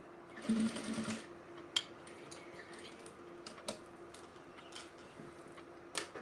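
A sewing machine stitching a bag gusset, heard as a short fast run of stitching near the start and then quieter clicks and taps over a steady low hum, with no talking.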